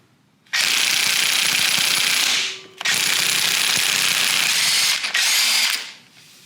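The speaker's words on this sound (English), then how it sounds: "if you have an impact gun with a 19 millimeter socket, you should just be able to put that right on and blast it off" An impact gun fitted with a 19 mm socket hammers at the crank pulley bolt of a Honda engine. It fires three loud, close bursts, two long and one short, with brief gaps between them.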